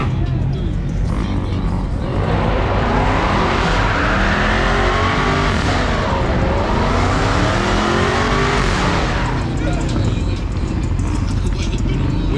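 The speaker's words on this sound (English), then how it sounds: "Didn't you say no burnouts?" A Dodge Scat Pack roars through a burnout, its engine revving hard in loud sweeping rises and falls over a dense wash of tire noise. Occasional voices sit low beneath the constant, close-up din.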